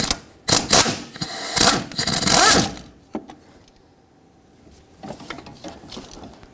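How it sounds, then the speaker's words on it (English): A ratchet with a deep 13 mm socket works a stud loose on a 2.4L Jeep Wrangler engine, giving bursts of clicking and grinding mechanical rattle in several close, loud spells, then quieter clicks near the end. "we'll need a deep 13 millimeter socket to break free that stud"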